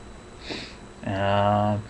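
A quick, congested sniff from someone with a cold comes first, followed by a short nasal voiced hum, close to the listener.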